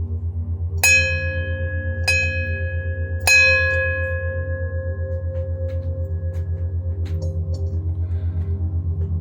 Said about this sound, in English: Ring the bell 3 times here.